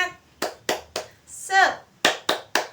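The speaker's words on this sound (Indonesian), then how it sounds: "Ayo kita tepuk semangat dulu ya, biar semangat." A group in a classroom claps in a steady rhythm, several sharp claps in a row, with a brief shout of voices in the middle.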